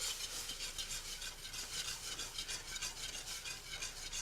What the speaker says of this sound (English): you're just going to kind of stir it, make sure there's no lumps of the flour